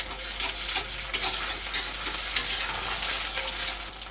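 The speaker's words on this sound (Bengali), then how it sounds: "আদা রসুন বাটাটা আর পেঁয়াজটা আরেকটু ভাজা ভাজা করে নেবো" Ginger garlic paste and chopped onion frying in oil, a continuous close sizzle with soft spatula stirring scrapes throughout, no voices.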